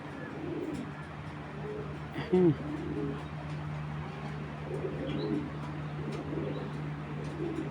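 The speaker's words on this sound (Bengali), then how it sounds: "অরিজিনাল গ্রিন আইসের কবুতর" A green-eyed racing pigeon coos softly amid a steady low hum, with one brief louder burst standing out among faint background murmurs.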